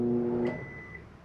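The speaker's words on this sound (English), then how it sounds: "Microwave." A microwave oven in a 2025 Flagstaff Microlite 22FBS travel trailer gives one short, moderately faint electronic beep over a low background hum.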